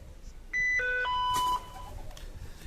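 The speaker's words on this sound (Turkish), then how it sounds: "Şu an telefonumuz çalıyor." A phone ringing through a speaker while calling the SIM card in a Nefer NF3374A pump controller, heard as a short run of clear electronic ring tones at moderate volume, with no talking.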